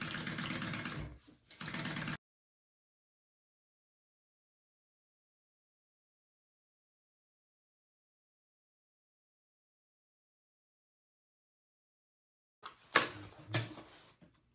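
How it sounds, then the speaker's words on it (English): Sewing machine running a small stitch length around a fabric rectangle for a handbag, a fast mechanical whirring burst at the start, then long silence, then a second shorter run with clicks near the end. "I am going to sew around my rectangle"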